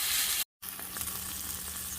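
Hamburger patties browning in a pan give a soft, steady sizzle, brief cut in the middle, then faint frying crackle continuing quietly and close.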